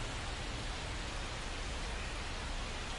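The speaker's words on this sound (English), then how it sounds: "the field's not going to be able to hold up if the rain gets any worse than this" Steady rain pours onto the baseball field in MLB The Show 25, a dense even hiss that fills the whole clip without letup, close and constant with no voices over it.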